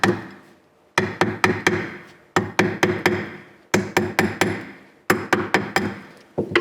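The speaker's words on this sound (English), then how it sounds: "So you turn your ring around again before you hammer it again." A hammer strikes a metal ring during jewellery making, landing sharp, ringing blows in quick bursts of four or five, separated by short pauses.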